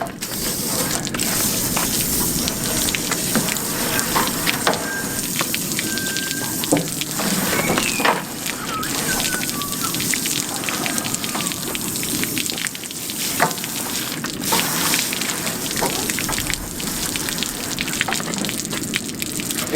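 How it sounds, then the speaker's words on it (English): Steady broadband spray of a water hose rinsing a freshly skinned rabbit to wash off loose fur, continuous hiss with small splashes and clatter, close and alone without speech. "Now I'll get the hose and give it a really good sort of rinse down"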